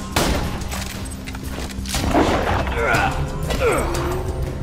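Machine gun fire in Borderlands 2 during a boss fight, heard as dense, loud bursts of rapid shots and crashes that run through the whole clip beneath voices and game effects.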